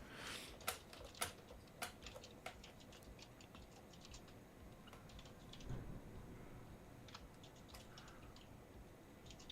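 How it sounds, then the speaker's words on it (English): Computer keyboard typing during a Sons of the Forest game session: scattered sharp clicks in a few quick bursts, then sparser taps, faint and close over a steady low hum, with no talking. "That clickety clacking is John looking for the D&D man."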